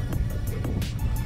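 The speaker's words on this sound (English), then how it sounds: "I've got a bit of a rattle, as you can probably hear." A Volkswagen MK5 Golf GTI rattles inside its cabin while being driven, a quick series of light, regular knocks and taps over a steady low road and engine rumble.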